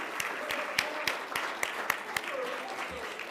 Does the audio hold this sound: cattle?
no